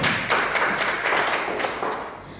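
A church congregation at a Sunday service claps its hands in praise, loud and close, with a few heavier beats in a loose rhythm over a brief burst of clapping.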